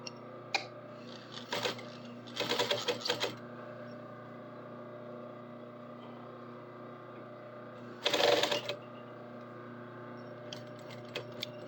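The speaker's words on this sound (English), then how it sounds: "Backstitch it, like 4 or 5 stitches." Sewing machine stitching a shirt collar in short bursts, including a back-and-forth backstitch of a few stitches, with quiet pauses and a steady low hum between runs.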